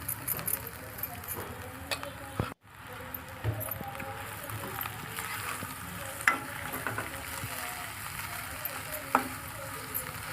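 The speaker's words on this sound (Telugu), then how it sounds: "ఇప్పుడు ఉడికించి పెట్టుకున్న ఈ ముక్కల్ని వేసుకోండి." Boiled potato pieces fry in a pan with a steady, close sizzle. Occasional sharp clinks break through, and there is a brief dropout near the start.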